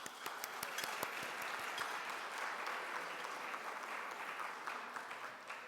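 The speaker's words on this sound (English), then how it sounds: "Can I have just a round of applause?" A luncheon audience gives a round of applause for the event sponsors: a few sharp early claps swell into a soft, even wash of clapping that sounds fairly distant and quiet, with no voices over it.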